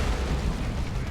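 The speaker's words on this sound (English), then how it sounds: "There's that touch of Nurgle explosion." A touch of Nurgle explosion goes off in the strategy game Warhammer 40k: Dawn of War 2. It is a dense, low, rumbling blast that holds at the same loudness for just over a second, with no voices.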